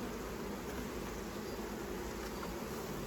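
Honeybees at botanical garden hives hum in a continuous, even buzz, soft and steady throughout with no other sounds.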